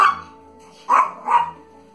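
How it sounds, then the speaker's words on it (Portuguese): Two short barks from a dog, close and fairly loud, spaced about a half second apart over a faint steady background tone. "Ah! Os cachorros."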